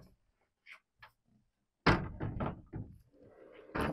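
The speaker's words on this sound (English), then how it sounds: "sliding door." The sliding door of a 2005 Alfa See Ya 40FD motorhome is moved, giving a few faint taps and then a loud rolling thunk and rattle that ends in a solid knock, heard close.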